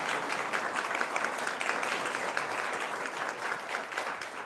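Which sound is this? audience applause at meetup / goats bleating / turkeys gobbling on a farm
audience applause at meetup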